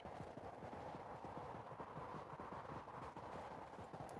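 Horse hooves clip-clopping in the Knightfall video game, a quick steady run of hoofbeats under a constant low rumble, no talk.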